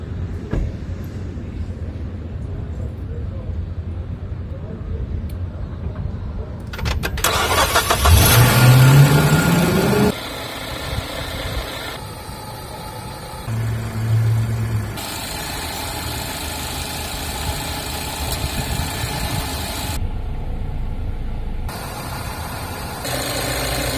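A 2016 Ford Focus cranks and fires after a jump start, a loud burst of starter and engine revving, then settling into a steady idle that carries on for the rest of the clip with no talking.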